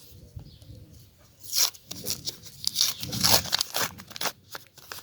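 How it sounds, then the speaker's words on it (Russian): A paper surprise packet is torn open up close in several crisp, crinkly bursts of ripping and rustling, alone without talk. "Итак, давайте же откроем наш пакет."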